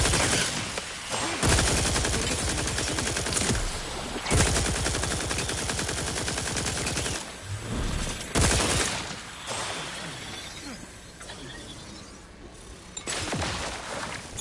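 Turrets firing in The Outer Worlds 2 video game, long loud stretches of rapid automatic fire broken by brief gaps, dense and close.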